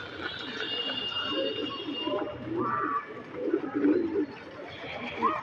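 Pigeons coo in soft, repeated rolling calls close by, with a murmur of voices mixed in underneath.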